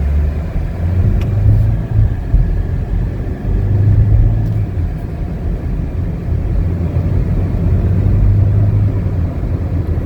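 A 2019 Chevrolet Equinox LT drives on a test drive, its engine and road noise forming a loud, steady low rumble from inside the cabin with slight swells, no talking heard.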